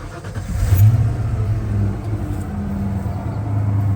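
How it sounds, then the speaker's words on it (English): Truck engine with a stock muffler revving, a steady low rumble that swells early then settles into a smooth mid idle, close and fairly loud with no talk. "Sounds pretty decent. It does have a stock muffler on there."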